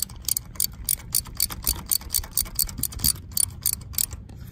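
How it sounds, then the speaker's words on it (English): A 3/8-inch ratchet wrench clicks steadily as it tightens a spark plug on a Honda Pilot engine, a close, rhythmic run of sharp ratcheting ticks heard alone with no talking. "with a 3/8 wrench and tighten it up clockwise, just until it starts to stop"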